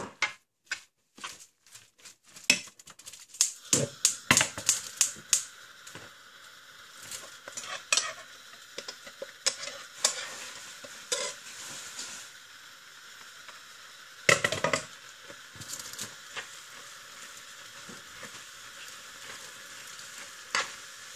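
Seafood béchamel sauce with cheese reducing in a pan, for seafood nems: a steady soft sizzle under frequent stirring, scraping and clinks of a utensil against the pan, continuing throughout.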